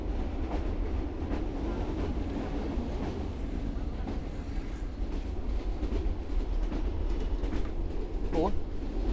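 Train rolling along its rails in a 2001 Vietnamese feature film, a steady low rumble with faint clatter throughout and a brief squeal near the end, under some distant voices.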